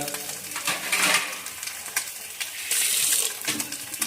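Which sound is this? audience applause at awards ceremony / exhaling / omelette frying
omelette frying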